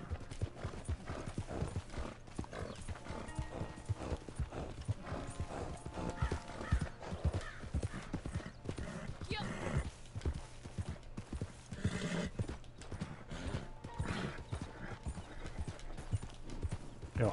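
Horse hooves clip-clopping in the video game Wild Times, a steady rhythmic trotting with an occasional whinny over dense game ambience, fairly loud and continuous.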